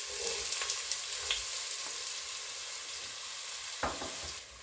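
Chopped onion goes into a pan where garlic is already frying for a soup with minced meat. It gives a constant loud, hissing sizzle with a few soft stirring knocks.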